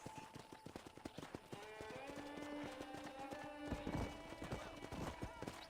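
Horse hooves clip-clop in the Red Dead Redemption video game near a frontier town corral, a close, regular trotting rhythm of sharp hoof strikes with faint tonal game music and ambience underneath.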